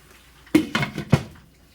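A metal lid is set onto a cooking pot, making three or four quick, sharp clanks and rattles close by, followed by quiet.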